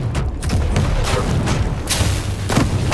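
Gunfire from a weapon in the Quake Champions beta crackles in a rapid series of loud booming shots and impacts, dense and continuous with sharp transients standing out.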